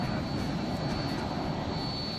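Donald Trump's private jet comes in to land in fog at New York with a loud, steady roar of jet engines and a thin high whine above it, heard from inside the aircraft.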